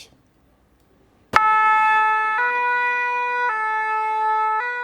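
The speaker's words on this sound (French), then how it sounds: "Des sirènes pour faire entendre leur ras-le-bol" A loud two-tone fire engine siren suddenly blares after a near-silent start, alternating pitch at a steady rhythm, close and dominating.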